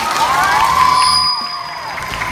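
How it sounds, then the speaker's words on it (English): Concert audience at an album tour show in Sta. Lucia, a burst of crowd cheering, shouting and applause that swells briefly then fades to a lower murmur. "give me your loudest applause"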